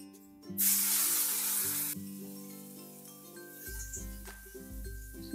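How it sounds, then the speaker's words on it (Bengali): Turmeric and a cumin and green chilli paste hit hot oil in a pan for a Bengali pabda fish curry, giving a loud burst of sizzling that settles into a steady fry with faint clinks, no voices. "লো ফ্লেমে খুব ভালো করে মশলাটাকে একটু ভেজে নেব।"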